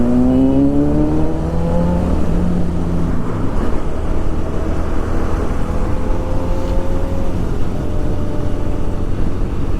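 A superbike passes on an open road during a group ride, its engine rising to a loud, whining roar up close and then settling into steady, heavy road and wind noise.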